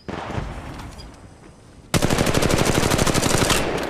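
Automatic gunfire from Apex Legends Mobile bursts in as rapid, loud, close rattling shots, following a quieter stretch of fainter, distant shooting and background noise.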